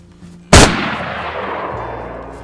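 A single sharp gunshot in the video game DayZ, loud and sudden, followed by a long rolling echo that fades slowly over a couple of seconds.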